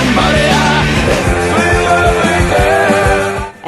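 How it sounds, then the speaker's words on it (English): Punk rock plays loud and dense, with driving distorted guitars, drums and shouted vocals filling every moment before cutting off abruptly. "And that is the sound of punk."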